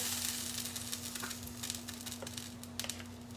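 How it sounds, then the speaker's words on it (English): Drops of water sprinkled onto a hot pancake skillet sizzle and crackle, a continuous frying hiss close by dotted with sharp popping spatters, with no talking. "Just take a few drops of water and sprinkle."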